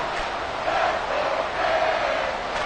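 A football stadium crowd roars in a steady, dense wash of cheering and shouting, loud and continuous with slight swells and no clear individual voices.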